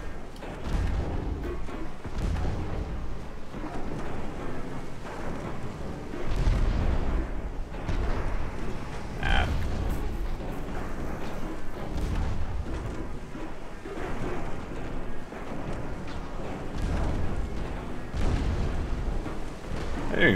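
Naval gunfire from warship battles in a Dreadnought Improvement Project game, heard as repeated deep booms and rumbling blasts layered over continuous low battle noise, fairly loud and dense throughout.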